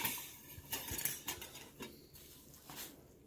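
A piece being cut from a cheesy microwaved prison pizza cooked in a plastic bag, with scattered clinks and scrapes of a utensil against a plate or dish, close and fairly quiet, with no talking.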